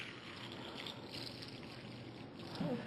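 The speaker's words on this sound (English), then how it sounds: "we're just going to simulate that by pouring some tap water in here" Tap water pours steadily into a container, a continuous close splashing trickle with no talk, rising slightly at the end.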